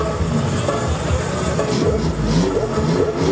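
A tuned Volkswagen Gol race car engine revs hard at a drag racing event in southern Brazil, a loud continuous mechanical roar with rising and falling throttle, heard up close amid crowd and track ambience.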